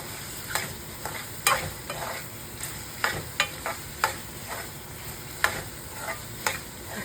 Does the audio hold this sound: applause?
no